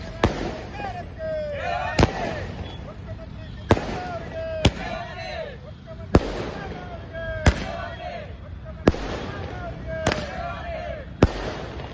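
Firecrackers bursting in a city square circle at night during a celebration by activists and farmer leaders, with about ten sharp, loud cracks spaced irregularly over a steady crowd murmur and scattered whistling fizzes between the bangs.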